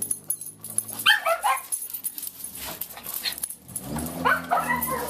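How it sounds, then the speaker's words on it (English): Several neighbourhood dogs barking in agitation, loud overlapping barks and yips with some whimpering, coming in bursts nearby. "All the dogs in the hood are in uproar."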